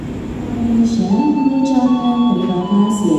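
A Jayabaya train at Tegal station gives off a low, steady rumble with humming tonal lines that rise and shift, loud and close, with no talk over it.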